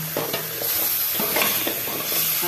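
Meat curry is stirred slowly in a pot over low heat, with a soft continuous sizzle and repeated scraping stirs sounding close by.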